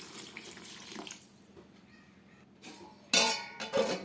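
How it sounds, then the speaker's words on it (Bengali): Water is poured into a pan of cooking soybean curry, starting as a soft trickle and then turning into a loud splashing gush near the end. "এবার আমি দিয়ে দেবো পরিমাণ মতো জল"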